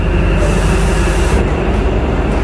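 A red local train runs at Colombo Fort railway station in Sri Lanka, its loud, steady rumble and rattling wheels filling the space close by, with a brief squeal riding on top.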